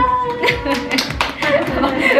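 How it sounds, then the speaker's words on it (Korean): During a bridal makeup session at a wedding salon, a few soft hand claps come through close by, mixed in with ongoing talk and laughter. "박수까지."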